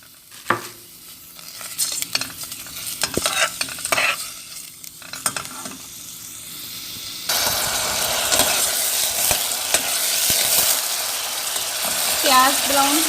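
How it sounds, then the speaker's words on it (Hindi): Onions go into a cup of hot oil for a green lobia and potato curry; scattered clinks and stirring knocks give way to a loud, steady sizzle of frying that carries on to the end. "1 कप ऑयल हमने इसमें डाल लिया है, थोड़ा ये गरम हो ले। फिर इसमें हमने प्याज डाल देने हैं।"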